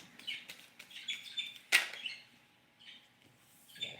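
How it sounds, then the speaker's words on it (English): A pet bird calls in short, bright chirps and squeaks, with one sharp loud peak, sounding fairly close in a quiet indoor space. "Being her loud self. My baby birdie birds. They make like a cute sound."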